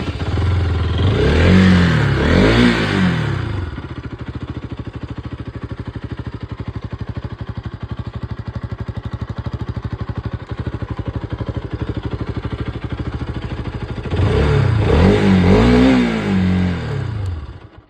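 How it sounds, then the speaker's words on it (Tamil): A Bajaj Pulsar RS200 motorcycle with about 10,000 km on it idles in a steady, close putter, bracketed by sharp throttle blips at the start and end. "இப்போ வாங்க வண்டியோட இன்ஜின் சவுண்டை பார்க்கலாம்."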